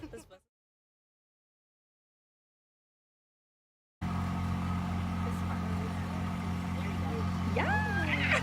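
Inside a bus driving toward Indio, a steady low engine hum fills the cabin after several seconds of silence, with voices briefly rising over it near the end.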